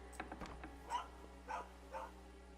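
A dog in the medieval village of Kingdom Come: Deliverance 2 gives a few quiet, spaced barks and yips, faint and somewhat distant against a low ambient hum.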